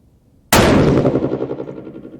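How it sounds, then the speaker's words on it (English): A single 6.5 PRC rifle shot fired outdoors while checking zero: one sudden loud blast that rolls off into a long fading echo. "We're going to be shooting on the left-hand dot,"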